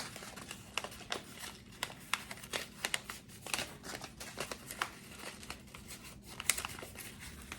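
Paper covering seed-starting pots being folded over, a run of close, quiet crinkling and rustling crackles in irregular bursts, with no talking.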